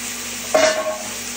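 Broccoli and cut green pepper hit hot extra virgin olive oil in a pan, a sudden loud sizzle that swells then settles into a steady frying hiss, alone without talk.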